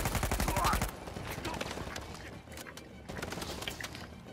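Gunfire in Uncharted 4 comes as a quick burst of rapid automatic shots at the start, then scattered softer reports and distant pops follow under a faint background, fairly quiet overall.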